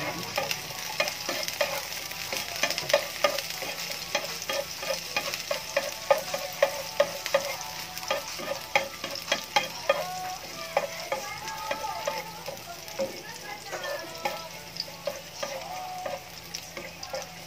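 Garlic frying in a pan, a soft continuous sizzle broken by scraping stir strokes and small pops, fairly quiet and close.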